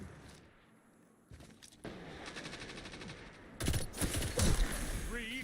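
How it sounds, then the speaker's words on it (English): Sniper rifle fire in a Destiny 2 Crucible competitive match: quiet at first, then sharp gunshots and crackling fire building up, louder bursts toward the end. "There's the snipers."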